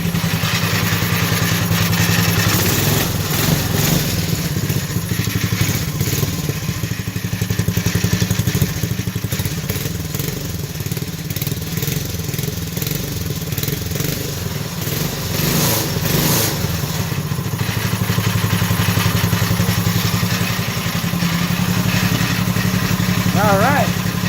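A mini race mower engine idles after a cold start, a steady, loud, close chugging and clattering drone with small surges throughout, and voices talk faintly over it at times.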